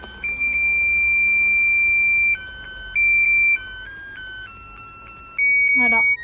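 A pressed aromatherapy diffuser plays an electronic melody: loud, shrill beeping tones in stepped notes with short pauses between phrases, ending in a brief rattle.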